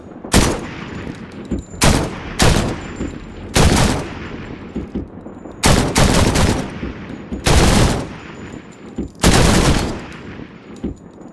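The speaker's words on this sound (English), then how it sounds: "I managed to recreate Arc Raiders' gunfire logic and sound" A recreated Arc Raiders video game gun fires in short, loud bursts of rapid shots, several volleys separated by brief pauses, each ending in a reverberant tail.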